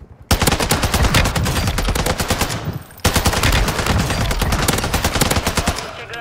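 Two long bursts of rapid automatic gunfire from a TAQ-V rifle in Call of Duty: Warzone 2.0, loud and close, broken by a brief pause between them.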